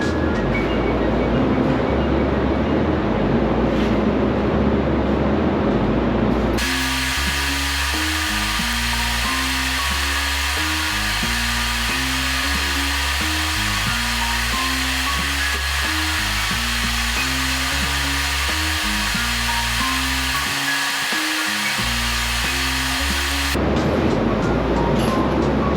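A GTAW TIG welder lays a cap pass at 180 amps with 1/8 inch filler rod on an AWS D1.1 3G test plate, a loud, steady hiss and buzz with a rhythmic pulsing in the middle stretch.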